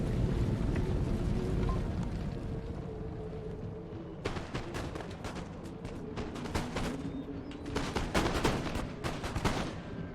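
Musket volley fire in Empire: Total War, with dense crackling bursts of shots erupting in waves over a low rumbling battlefield bed, growing sharper and more clustered toward the end.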